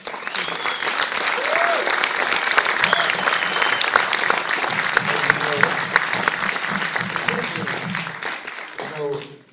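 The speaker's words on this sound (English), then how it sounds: "I'm so pleased you could be here and hear applause" Audience applause fills a theater after a screening of Heaven's Gate in New York, a dense, sustained clapping that runs steadily for about nine seconds before tapering, with a voice cutting in near the end.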